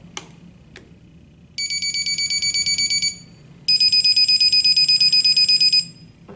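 Two short clicks, then two bursts of a rapid, high electronic beeping alarm from a GMS Med-e-lert medication reminder, each pulsing for a couple of seconds, the second slightly louder.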